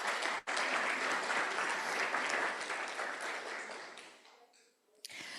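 Conference attendees give another round of applause for the speakers at a family and scientific conference, a full, steady burst of clapping that tapers off near the end, with a brief pause and a faint voice after.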